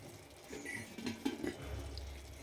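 Tamarind water splashes and trickles into a brinjal and tomato curry in a pot, a faint, brief pour with soft liquid gurgles lasting a couple of seconds and no voices.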